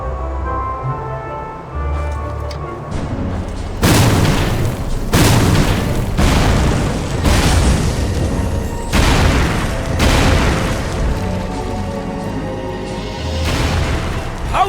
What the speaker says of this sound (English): I'm referring to the cannon shot by the undead in front!